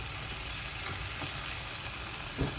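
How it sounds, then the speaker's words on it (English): Chopped onion fries in hot oil in a pan for a chili kangkong stir-fry, a steady, soft, close sizzling hiss with one brief stirring clatter near the end; no speech. "Okay, and then you put in the onion."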